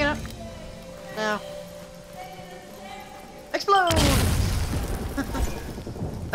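A sudden loud explosion booms out midway over a droning, electronic soundscape with tonal effects in the video game Redfall, leaving a rumbling wash that lingers afterward.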